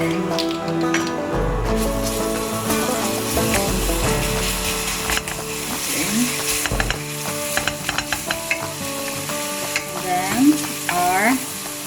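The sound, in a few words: garlic sautéing in oil in a pan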